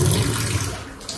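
Coriander leaves rinsed under a running kitchen tap, a steady close splashing stream of water that eases off slightly toward the end.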